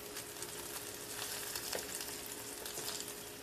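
Beaten egg fries in leftover bacon grease in a pan, giving a faint, steady sizzle with occasional small pops and no voices.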